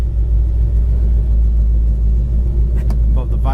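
A 1970 Pontiac LeMans V8 with dual electric fans idles steadily after running for some time, a deep constant low rumble close by, with brief higher clicks and noises near the end.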